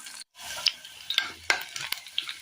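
Sliced onion sautéing in a pan for a Kerala dish, a steady sizzle broken by several sharp scrapes and clinks as the spoon stirs, close and fairly loud.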